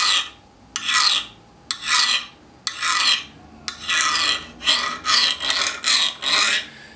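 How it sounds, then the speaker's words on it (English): A 60 Rockwell test file rasps across heat-treated SUP9/5160 spring steel in about nine close, loud strokes, steady at first and then quicker, with no voices. "Try it with the 60 Rockwell test file."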